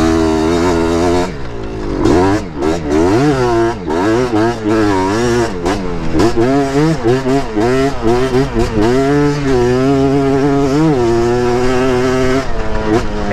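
A Yamaha TRI-Z 250 three-wheeler engine revs hard on sand dunes, loud and close, its pitch sweeping up and down through repeated throttle blips and sustained high revs with no pauses.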